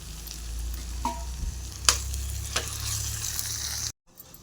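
Spices, curry leaves, coriander powder and ginger-garlic paste frying in a pan for an eggplant and tomato curry, a steady close sizzle with a few sharp stirring clicks before stopping abruptly.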